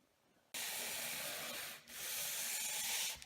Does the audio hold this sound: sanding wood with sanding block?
yes